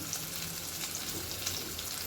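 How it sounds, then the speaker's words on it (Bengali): A potato fries in hot oil before a rohu fish head dish, giving a steady, moderately quiet sizzle with fine crackling that holds evenly throughout. "একটু লাল করে ভিজে তুলে নেবো আলুটা ভাজা হয়ে গেছে"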